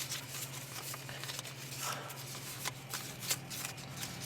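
Playing cards are flipped and handled during a tabletop game with soft, quiet riffling and light patter, interrupted by occasional small taps over a steady low hum.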